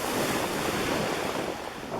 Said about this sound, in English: Being carried in by the surf in and out of the retreating waves.